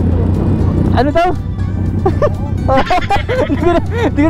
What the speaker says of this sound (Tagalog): Ingay na mga motor natin.